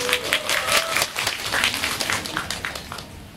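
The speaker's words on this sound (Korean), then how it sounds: "박수를 맞아주세요" Enthusiastic audience clapping at a kids' hip-hop girl group showcase, lively overlapping claps filling the room, with a brief high tone near the start, then tapering slightly toward the end.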